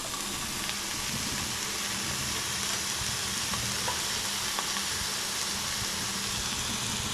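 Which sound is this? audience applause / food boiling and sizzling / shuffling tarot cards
food boiling and sizzling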